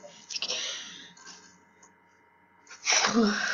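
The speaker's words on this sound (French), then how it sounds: "Excusez-moi, j'allais éternuer." A single loud sneeze near the end, preceded by a quiet hiss and a sharp intake of breath, close to the listener.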